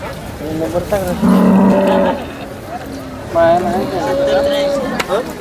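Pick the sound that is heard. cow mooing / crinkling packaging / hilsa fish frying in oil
cow mooing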